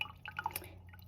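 Faint, quick drips and small splashes of liquid being poured off a solid settled at the bottom of a lab vessel, a brief patter of a few droplets.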